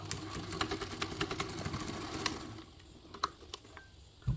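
A sewing machine runs steadily for a couple of seconds, stitching an extra line of support on a backpack's D-ring strap tab, then stops, leaving a few faint clicks and taps.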